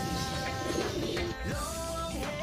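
Racing pigeons cooing and fluttering in a busy loft, soft throaty calls repeating over a steady background hum, no voices.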